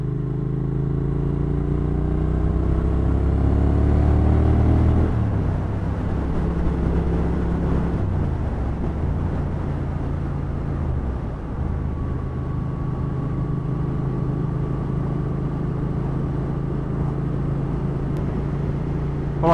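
A Triumph Thruxton R motorcycle on a ride, its engine pulling through rising gear-by-gear revs, then holding a steady cruising drone under strong wind rush.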